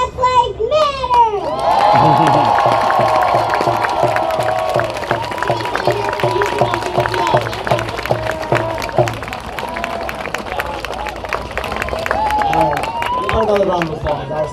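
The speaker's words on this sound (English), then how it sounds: "Another round of applause." A dense crowd at a Black Lives Matter protest rally in Seattle claps and cheers steadily, with children's shouts and voices mixed into the loud, sustained outdoor applause.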